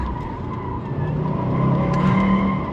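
Tires squealing as a car brakes hard going downhill on a racing course, a rising screech over steady engine and road noise that grows louder partway through, heard close.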